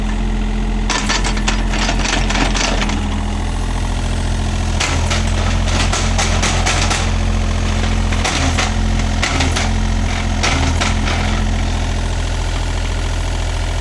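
A Tata Hitachi Zaxis 38U mini excavator digging a pit in wet field soil for a pipeline, its engine droning steadily and loudly up close, with repeated bursts of clanking and scraping from the bucket working.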